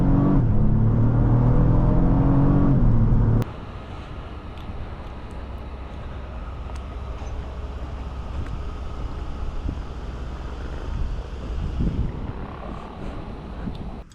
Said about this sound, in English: Today we are driving a 2024 Lexus GX550.